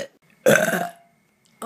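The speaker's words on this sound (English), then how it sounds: "OMG, a girl just burped." A girl lets out one loud, drawn-out burp up close, preceded and followed by brief quiet moments and a short start of another sound at the end.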